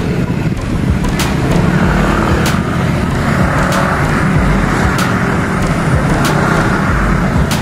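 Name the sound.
car engine straining to climb steep hill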